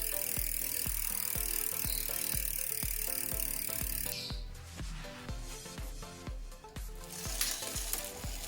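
A steady, loud rapid ticking of a Race brand freehub ratchet on a mountain bike wheel as it spins freely, a regular clicking rhythm that continues throughout with a change in tone midway.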